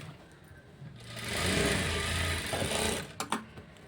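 Sewing machine stitching joints in blouse fabric, a quiet whirring run that builds, holds for about two seconds, then stops with a few small clicks.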